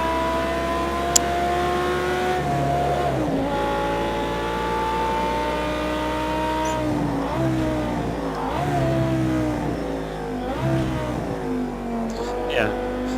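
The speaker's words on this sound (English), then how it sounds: "bit of a change in the sound from the 959 though" A Porsche 959 engine in Project Cars 2 revs hard under racing load, its pitch climbing through gears with sharp drops at each shift, loud and continuous throughout.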